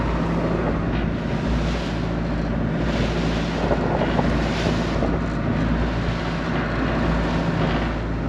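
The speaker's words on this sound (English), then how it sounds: "Getting pretty rough. Bit of an easterly in that wind." A strong easterly wind roars steadily across the microphone aboard a boat on rough, chilly open sea, loud and unbroken throughout with a low, buffeting rumble and no voices.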